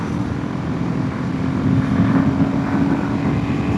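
A 2025 Royal Enfield Himalayan 450 motorcycle with a six-speed gearbox accelerates on a top speed run, its engine a steady, close drone mixed with heavy wind buffeting.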